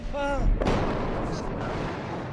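A large satellite-guided 2,000-pound bunker-buster bomb explosion during an air strike, a heavy booming blast with a rumbling tail, heard after a brief tonal sound, loud and distant-sounding.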